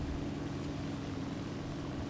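A Do-217 J-2 bomber engine in War Thunder drones with a steady low hum while losing power, the note continuous and fairly even with only a faint hint of a surge.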